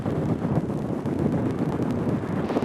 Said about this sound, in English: still pretty windy in there.